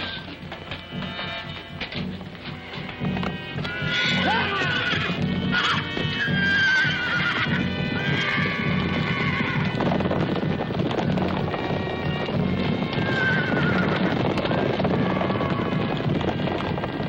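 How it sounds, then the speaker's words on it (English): A horse neighs several times in a 1971 Western film scene, whinnies rising over a steady bed of outdoor noise, wind and faint hooves through the long stretch, with no one talking. "Lieutenant, your horse."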